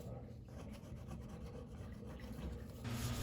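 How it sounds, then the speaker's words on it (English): A rubber spatula scraping adhesive residue off a cat scratcher, soft repeated close scraping strokes at low level, growing a little louder near the end. "I'm just using the rubber spatula to try and get most of it off"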